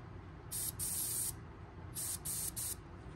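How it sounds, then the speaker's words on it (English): An airbrush sprays paint onto a custom candy-painted armored crawfish lure in short hissing bursts, two longer blasts followed by three quick ones, close and crisp over a low room rumble. "I like to lay my hand in front of my airbrush"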